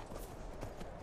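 Horse hooves galloping in the video game Skyrim, a fast, continuous muffled clatter of hoofbeats close by, filling a brief moment with no talk.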